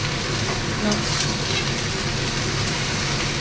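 Leafy greens sizzle loudly in a pan after salt is added, a dense, steady hiss with faint stirring, close up.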